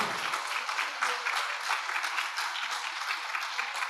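A church congregation applauds the Lord during a sermon, a dense, loud burst of clapping that carries steadily throughout, with a voice briefly audible at the start.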